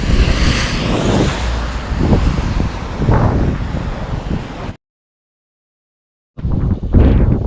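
Vehicles speed past on a rain-soaked road in Shelu during the monsoon, sending up several rushing swells over heavy wind buffeting. A stretch of silence breaks it before the road noise returns.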